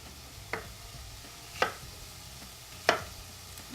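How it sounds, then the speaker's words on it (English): Three spaced knife chops through a green apple on a board, close and crisp, over a low background hiss of something sautéing. "I'm going to cut up this apple"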